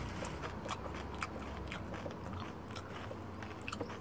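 Someone chews tagaktak, a crunchy Filipino native delicacy, close up. Repeated sharp crunches and bites come over a low steady background, with no talking.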